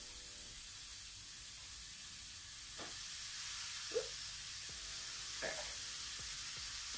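Burgers sizzling on a Power smokeless electric grill, a steady bright hiss from the cooking meat with a few faint clicks and small clatters over it.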